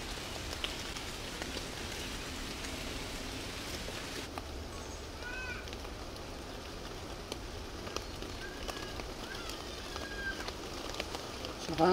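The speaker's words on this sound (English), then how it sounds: "Yes, it is raining." Steady rain patters on leaves and ground all around in a forest, a soft continuous hiss with scattered drips and occasional faint bird calls.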